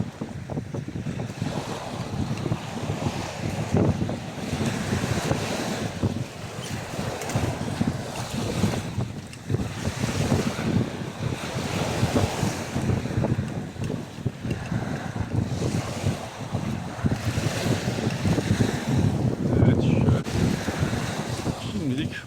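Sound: sea waves on a beach in Vietnam

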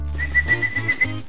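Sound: whistle

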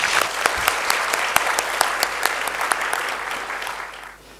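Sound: loud applause at a seminar opening ceremony

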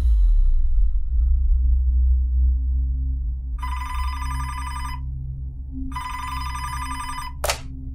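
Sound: telephone ringing

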